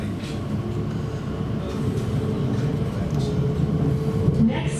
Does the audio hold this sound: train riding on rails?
yes